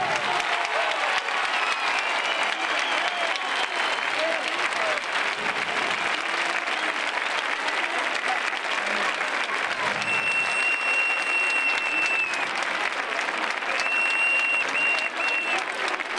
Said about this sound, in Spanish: Linares tiene que aplaudir vuestra presencia